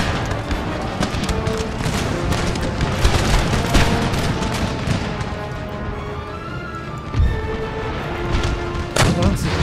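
Dense battlefield gunfire and booming artillery in Empire: Total War, with continuous overlapping musket volleys and cannon thumps forming a loud, steady roar, and a couple of heavier blasts near the end.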